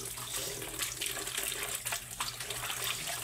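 Plates being washed under a running tap: a continuous, close hiss of flowing water with splashes and faint clinks of dishes, steady throughout with no talking.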